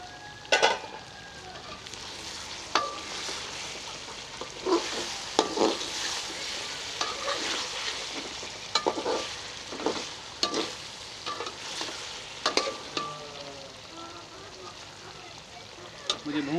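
Fish karahi sizzling steadily in a pan while a spoon stirs it, giving sharp scraping clacks at irregular intervals over the continuous frying hiss. Nearby and moderate in level.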